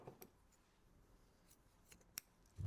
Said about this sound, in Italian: A questo punto taglio tutti i fili